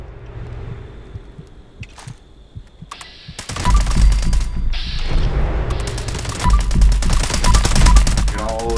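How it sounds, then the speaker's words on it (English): A gamma gun firing in Fallout 76: a dense, loud, sustained burst of rapid mechanical pulsing that starts abruptly partway through, after a quieter stretch of clicks and handling sounds. "Get out the gamma gun."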